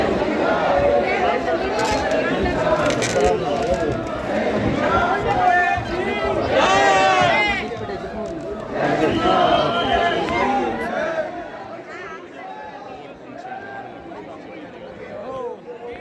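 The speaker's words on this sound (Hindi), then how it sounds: "देखिए अब कितनी भीड़" A dense crowd of devotees at the Khatu Shyam temple in Rajasthan, loud overlapping voices and shouting close by, with a steady hubbub that thins out toward the end.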